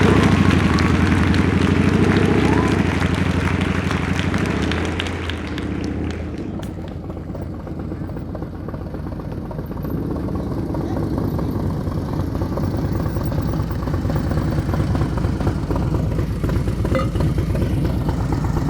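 A motorcycle engine running at low RPM during slow-speed riding practice: a steady low rumbling chug with loud wind-like roar at the start, then a softer, even engine pulse continuing to the end.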